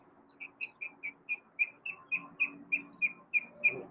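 A pet bird chirps loudly and close by in a quick, evenly spaced series of about a dozen sharp, whistle-like notes against a quiet background.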